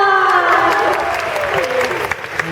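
A crowd at a Nokia Lumia meet-and-greet event applauds with quick, close clapping, while a voice with a falling tone runs under it and the claps thin out toward the end.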